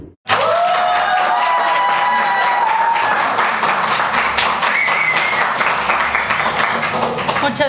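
A studio audience at a Spanish-language talk show breaks into enthusiastic applause, dense rapid clapping that holds steady for several seconds, with a few brief voices and whoops mixed in.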